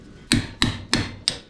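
A hammer striking a screwdriver wedged into brass scrap, four sharp metallic blows close by, evenly spaced about a third of a second apart, with nothing else heard.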